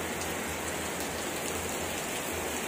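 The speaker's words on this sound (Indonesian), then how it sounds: "Kondisinya lagi hujan." Steady rain falls continuously, a dense, even hiss of drops on surfaces that stays constant and fairly loud throughout with no voices.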